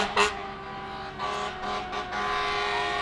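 Fire engines roll past during a town jubilee parade, among them a 1984 Ford Pierce: a steady, fairly loud motor drone with a brief sharp burst near the start and a few swelling passes, no talk.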